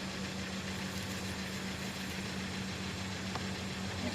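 A Kia car engine idling, a steady low hum with a constant drone, heard close and unchanging, with no voices.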